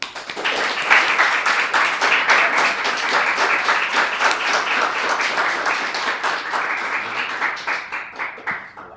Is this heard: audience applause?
yes